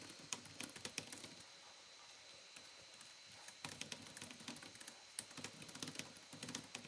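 Faint, irregular tapping of fingers typing a message on a computer keyboard, with quick clusters of clicks separated by short pauses in a quiet room.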